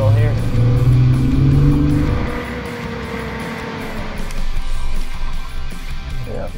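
A Jeep Wrangler engine revs under throttle while driving over sand dunes, loud and close, with a rising roar that eases off after about two seconds into a lower rumble, a voice speaking over it.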